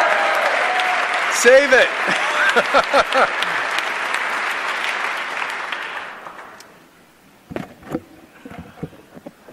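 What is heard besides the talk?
audience applause at a governor's inauguration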